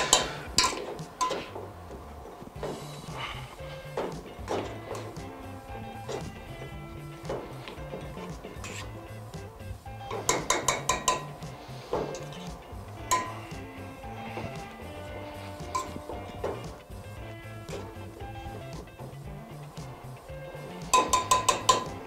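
Food is mashed by hand in a bowl in a restaurant kitchen, with soft rhythmic clinks and taps of the utensil against the dish repeating throughout, closer bursts of rapid clatter at times.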